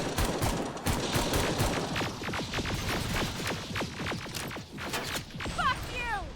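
Rapid automatic gunfire in a Terminator Resistance firefight. Dense bursts of shots rattle on steadily at moderate loudness while game voices shout under the shooting, and a brief whistling sweep comes near the end.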